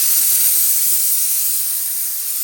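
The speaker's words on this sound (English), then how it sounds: "Blow the steam out of my Laura Star" A Laura Star iron blasts out a short, loud, close burst of steam, a bright hissing rush that fades slightly toward the end.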